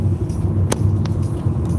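Steady low rumble of a car interior while riding as a passenger, with a brief click or tap partway through and no talk.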